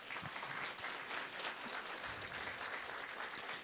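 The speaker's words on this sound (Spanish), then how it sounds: "por favor, vamos a dar fuertes aplausos." A church congregation at a Sunday service claps together in sustained, even applause that stays loud and steady from start to end.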